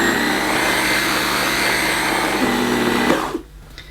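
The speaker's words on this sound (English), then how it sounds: "We've just got the 30-watt motor powering the electric brush." Small electric brush motor of a Sebo Airbelt C3 canister vacuum cleaner runs without suction, a loud steady whirring hum that cuts off abruptly near the end.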